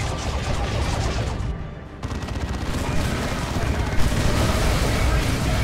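Dense, continuous artillery barrage from a Dawn of War II: Retribution match, a creeping bombardment of steady rumbling blasts and crackling gunfire with a sharper hit near the end, dense and loud throughout.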